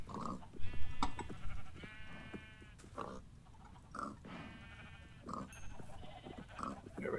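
A group of pigs grunting and squealing repeatedly in bursts, close and moderately loud, over a steady low rumbling background with no talk.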